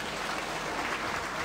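An audience at a medical mission event in San Antonio applauds, a steady moderate patter of many hands clapping at once without pause.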